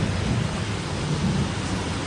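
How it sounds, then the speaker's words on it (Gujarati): Heavy village rain during a thunderstorm, a loud dense roar of downpour with deep low rumbling underneath, steady and close throughout the short stretch with no voices. "જો મિત્રો ફૂલ એકદમ વરસાદ ચાલુ છે, જોરદાર વરસાદ ચાલુ છે."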